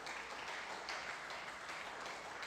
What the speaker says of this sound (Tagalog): Palakpak natin si Jesus.